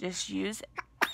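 A single sharp sneeze bursts out at close range indoors during casual conversation, a short sudden blast followed by a brief breathy tail, with talking just before it.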